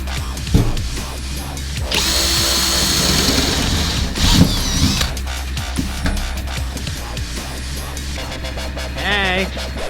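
A blunt power drill bores a hole in a workshop during a V8 Landcruiser panel van build, running loud and steady for most of the stretch with a brief whining burst near the end.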